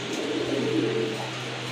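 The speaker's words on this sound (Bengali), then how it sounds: "খুবই সুন্দর একটা কবুতর।" A pigeon coos briefly and softly, heard close up against a faint steady background hum.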